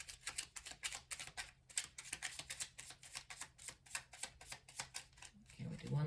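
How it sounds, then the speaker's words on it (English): Deck of tarot cards being shuffled by hand, a run of quick crisp riffles and flutters in an irregular rhythm, close and fairly quiet. "Do one last shuffle."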